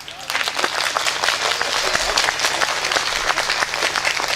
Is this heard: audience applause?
yes